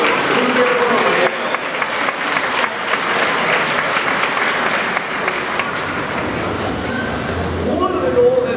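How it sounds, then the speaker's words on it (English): An audience at an aquarium beluga show applauds, sustained dense clapping that fills the space throughout and tapers slightly toward the end. "So let's have a round of applause for the beluga beluga."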